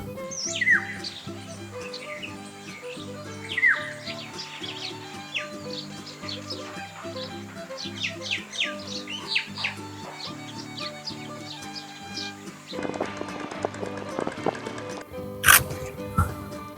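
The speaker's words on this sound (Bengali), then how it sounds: "দেখেছেন কত পাখি ডাকছে।" Many birds chirp and tweet in the Sundarbans mangrove forest, with scattered high calls near and far over a steady low background drone and a brief louder burst toward the end.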